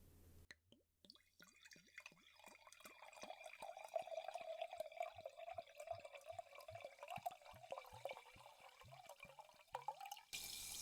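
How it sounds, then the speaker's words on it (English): Sparkling water pours into a glass in a rapid series of gurgling glugs, close and clear, rising in pitch as the glass fills. "now I'm just gonna pour this."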